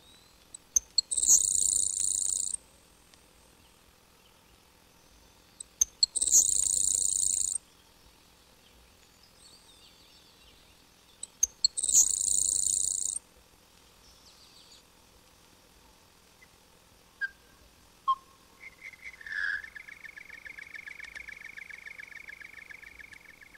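Grasshopper sparrow song played back at quarter speed and two octaves lower: three long buzzy high phrases at regular intervals, followed by short chirps and a sustained thin trill, clear and alone against silence.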